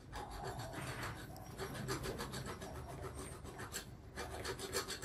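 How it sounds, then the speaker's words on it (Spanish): A 3 mm file rasps against a drill chuck part, steady rhythmic back-and-forth strokes close up and fairly quiet, continuing without pause. "En este caso damos una pequeña limada en este sector"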